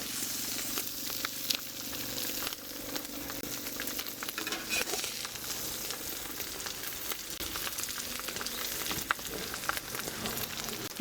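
Loaded hash browns with cheese and toppings sizzling on a hot flat griddle, a steady close frying hiss with occasional scrapes and pops, no talk.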